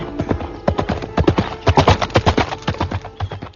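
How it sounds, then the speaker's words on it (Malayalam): A horse-drawn carriage arrives with loud, steady clip-clopping hooves close by, the beats quickening and crowding together in the middle before easing off. No voices are heard. "എന്റെ വിധി നടപ്പാക്കാനുള്ള കുതിരവണ്ടി എത്തി."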